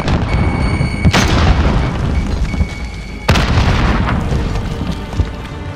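A frag grenade goes off in an online battle-royale shooter, giving two heavy booming blasts about two seconds apart over a dense, rumbling game soundscape with no talking.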